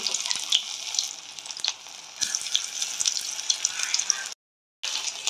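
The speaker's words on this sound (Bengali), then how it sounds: "কড়াইতে তেল গরম হয়ে গেছে, আস্তে ছেড়ে দিয়ে ভাজবো" Okra coated in spices and gram flour frying in hot oil in a wok, a steady close sizzle and crackle throughout, broken by a brief silent gap near the end.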